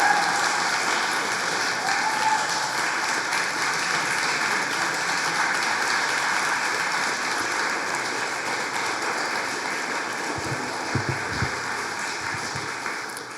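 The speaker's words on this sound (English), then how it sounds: "Let's give another round of applause for Sergeant Major Jackson" Audience applause at a Veterans Day ceremony in The Woodlands Township, a steady dense wash of clapping from a large crowd that holds for the whole stretch and thins slightly near the end.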